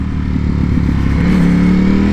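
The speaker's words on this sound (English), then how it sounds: "This again is the stock exhaust and it already sounds incredible." A Ducati Panigale V4 sport motorcycle with stock exhaust revs loudly and close, its pitch climbing into a sustained high rev toward the end, with a rough, throaty exhaust tone.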